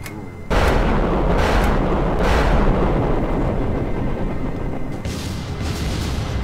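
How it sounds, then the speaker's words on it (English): Loud, continuous roaring rocket blasts from AIM-54 missiles fired in Kerbal Space Program on a multiplayer war server, starting abruptly and overlapping into a sustained thunderous rumble with fresh bursts. "I'm gonna fire some AIM 54s."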